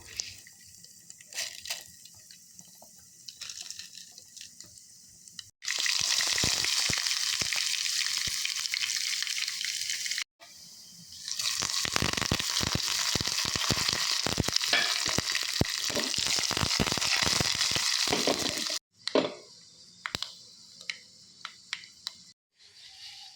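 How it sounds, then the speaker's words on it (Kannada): Urad dal tempering in coconut oil for dal curry gives two long bursts of loud, hissing sizzle split by a short pause. Stirring clatters come through, and the kitchen is quieter before and after. "ಒಗ್ಗರಣೆ ಪಾಡ್ಬೆ ಯಾನು ಮತ್ತು ತಾರೆದ ಎಣ್ಣೆ ಪೂರ ದೀಟು ಉದ್ದ ಬೇಳೆ ಪೂರ ಪಾಡ್ದು"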